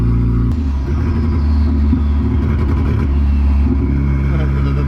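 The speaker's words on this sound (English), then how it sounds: "So we'll like get into it at low RPM and see how the turbo kind of reacts." A Volvo station wagon fitted with a Dodge Cummins turbocharger runs at low RPM, its loud, steady engine rumble droning close by without a break.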